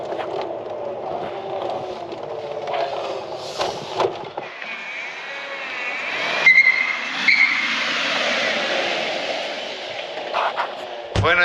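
A Mercedes E500 W211 under a hard braking test gives rising tire squeal and skidding screech over engine and wind noise, with a brief voice partway through.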